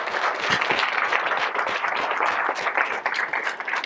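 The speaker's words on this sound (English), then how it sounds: "Let's clap it up for that" Sustained applause from an audience at a fraternity youth summit, dense overlapping clapping at steady loudness throughout, with no speech on top.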